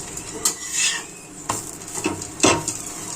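A besan bhujia paratha being pressed down and roasted in oil in a pan, with soft scraping and tapping from the spatula over a low, steady sizzle, close up.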